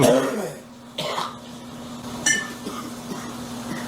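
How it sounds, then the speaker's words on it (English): Several harsh coughs and throat clearing nearby, irregularly spaced, over a low steady hum with faint clinks in the background. "God, is it like meth cough?"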